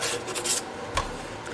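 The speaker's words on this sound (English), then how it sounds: "Never hurts to hit them again a little bit with sandpaper after you're done like that." Sandpaper rubs back and forth across the frets of a Sam Bush mandolin, a steady close rasping scrape lasting a moment with no talk.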